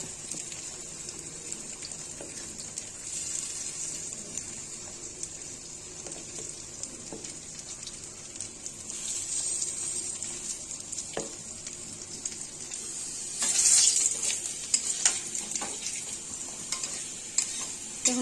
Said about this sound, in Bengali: এখন আলুগুলো লাল লাল করে ভেজে নেব